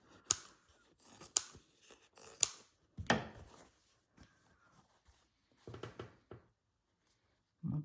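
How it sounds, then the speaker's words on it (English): Scissors snipping through pretty fabric for a hand-stitched pouch, a series of close, crisp cuts in irregular bursts with quiet pauses between them. "Let's just cut a smaller piece off"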